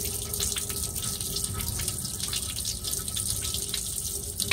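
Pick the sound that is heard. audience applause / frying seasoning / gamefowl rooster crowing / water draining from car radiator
water draining from car radiator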